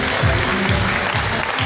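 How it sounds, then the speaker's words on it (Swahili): Wedding guests clapping together, a dense, loud burst of applause from a crowd, brief and continuous without pause. "Tuwapigeni makofi."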